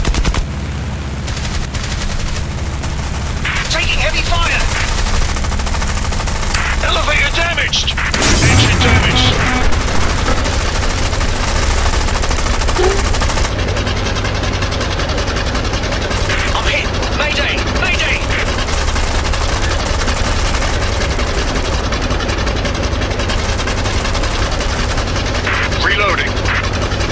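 Aircraft machine guns fire in rapid bursts during an aerial dogfight in the War Wings mobile game, loud and close over droning engines and game effects, with voice callouts breaking in at times.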